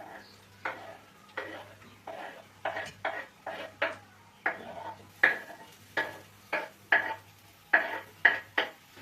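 A spoon scrapes and stirs carrots, onion and sour pickle frying in a pan for solyanka. The strokes repeat in a steady rhythm, each a short scrape over a faint sizzle, close and clear.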